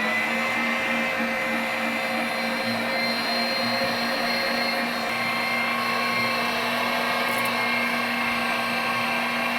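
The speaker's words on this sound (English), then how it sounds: "This one is a 575 watt grinder." A 575 watt electric meat grinder running while deer sausage meat is fed through it, a loud, steady motor whine with a constant hum, close and uninterrupted for the whole stretch.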